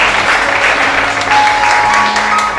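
A congregation claps steadily at a French-language church seminar, a dense, continuous wash of applause filling the room without pause, with no speech over it.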